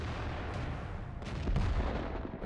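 A World of Tanks artillery shot booms over steady low battle rumble, a heavier thump swelling around the middle and the din holding loud and dense to the end.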